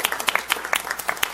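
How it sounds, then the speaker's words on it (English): A short round of applause at a city council meeting, with scattered individual claps from a modest group, close and clear, in a fairly quiet room. "can you stand up so we can give you a big round of applause?"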